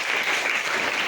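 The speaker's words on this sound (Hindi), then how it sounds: "बजाओ ताली आप लोग।" A crowd of students claps together in a short, steady burst of applause, fairly distant and even, with no talking over it.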